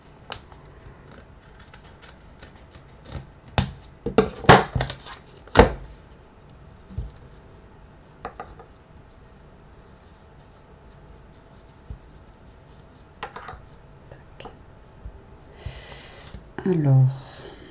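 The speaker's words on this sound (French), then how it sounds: "ce tissu, on va essayer de couper droit." Scissors cutting through fabric, a series of sharp snips and crisp rustles clustered in the first half, then sparser cuts, with a brief soft voice at the end.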